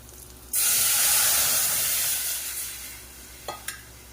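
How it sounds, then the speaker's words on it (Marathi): A buttermilk and gram flour mix for kadhi is poured into a hot pan, setting off a sudden loud hissing sizzle that slowly fades, followed by a couple of light utensil clinks. "आता हे जे ताक मिक्स केलेलं आहे ना चण्याचं पीठ टाकून ते पटकन आपण टाकूया"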